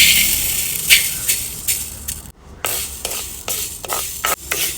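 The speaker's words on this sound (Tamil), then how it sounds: "இப்ப எடுத்து வச்சிருக்கிற பயரை நல்ல மொறுமொறுப்பா வறுத்து எடுத்துருவேன்." Pulses (payaru) are stirred and dry-roasted in a hot pan for a laddu, with repeated close scraping strokes and light rattling of the grains against the pan and a short gap midway.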